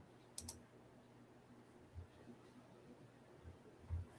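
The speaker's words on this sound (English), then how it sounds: "sounds like you're busy clicking over there" A computer mouse clicks a few times at a desk, with sparse, faint, irregular clicks spread over a quiet background and no talking.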